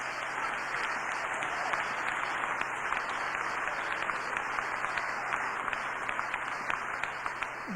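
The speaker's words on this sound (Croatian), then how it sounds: "Give yourself a round of applause." A large seated audience at a motivational talk gives a sustained round of applause, a thick, constant patter of many hands that holds at an even level throughout, with no one speaking over it.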